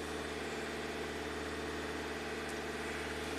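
A Hyundai engine held steady at 2200 RPM while running rich, a constant loud hum with fixed low harmonics and no speech.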